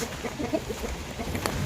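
Chickens cluck in short, scattered bursts across a busy outdoor background in a remote village on the slopes of Mount Kelud, Indonesia, with a brief sharp click near the end.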